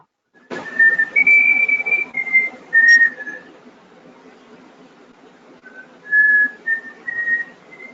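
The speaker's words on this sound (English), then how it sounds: "Who's whistling the happy tune?" A lone person whistles a cheerful tune during a board meeting, in two clear melodic phrases separated by a short quiet gap, close and alone.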